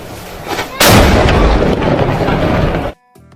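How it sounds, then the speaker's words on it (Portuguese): A single loud cannon blast booms out and rumbles for about two seconds before cutting off abruptly. "disparo de um canhão"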